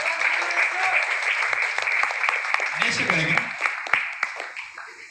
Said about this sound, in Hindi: बहुत बढ़िया, जबरदस्त ताली पर और बजा सकते हो।